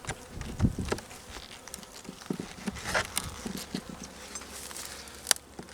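Honey bees from a small colony of two frames with a two-year-old queen buzz around the hive entrance, a steady close drone with individual bees zipping past and a few brief knocks.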